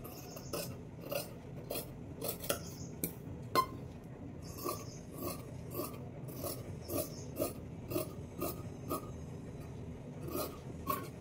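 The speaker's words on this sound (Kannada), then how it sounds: "ಈ ಒಂದು ನೆಕ್ನು ಕಟ್ ಮಾಡಿಬಿಡ್ತೀನಿ" Scissors snip through blouse fabric while the neck is cut out, a steady series of crisp, close, fairly quiet clicks and crunches in a repeating rhythm, with no talking.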